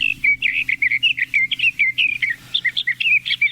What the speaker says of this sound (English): There's that mystery bird again.